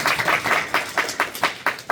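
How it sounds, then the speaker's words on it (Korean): A youth church congregation at a Korean worship service gives a brief round of applause, sparse hand claps arriving in loose uneven bursts that grow more distinct toward the end. "하나님께 영광의 박수 올려드립니다"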